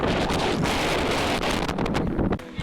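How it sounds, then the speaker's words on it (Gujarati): Strong, steady wind roars and buffets loudly across the microphone for the whole stretch on Girnar mountain, Junagadh, with no other sounds breaking through. "પવન તો અત્યારે અહીં ફૂલ એવો છે"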